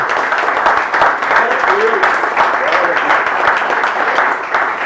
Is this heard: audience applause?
yes